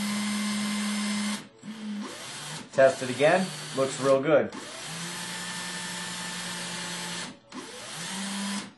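A drill spins a bit into a modified sport-tuned fishing float, a steady motor whine running loud and close in long stretches, stopping briefly twice, with someone talking during a pause in the middle.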